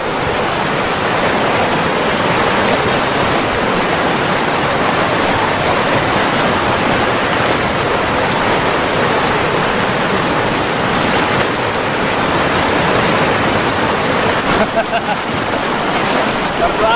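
Fast river rapids rush over large stones at a riverside tubing spot, a loud, continuous broadband roar of churning water that fills the whole stretch without a break.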